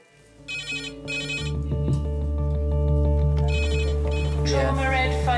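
A trauma red phone rings in a hospital emergency department, repeated electronic trills in bursts over a steady low hum, loud and close.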